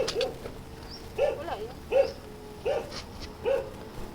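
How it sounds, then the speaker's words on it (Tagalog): A dog barks repeatedly, about five evenly spaced barks, moderately loud over a steady low background hum. "Ang ingay nga lang ng aso."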